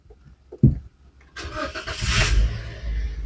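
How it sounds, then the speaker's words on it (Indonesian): A 2024 Toyota Calya Type G, a low-cost green car, starts up nearby: a short click, then the engine turns over and settles into a rough, slightly whining run. "Mesinnya khas LCGC, ada sedikit teriakan, ada sedikit seperti kasar mesin."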